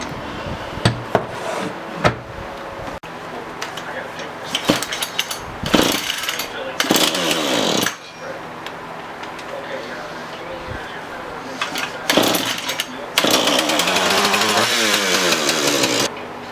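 A Husqvarna 440 X-Torq chainsaw is pulled over and started, with sputtering bursts of engine noise that rise to a loud, near, rough running roar by the end. Some speech-like sound comes through between the bursts.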